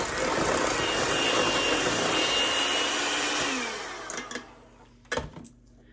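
An electric mixer creaming sugar with allulose sweetener for a cake, a loud steady motor whir that runs for several seconds then cuts out, followed by a few clunks and taps, close up and without talking.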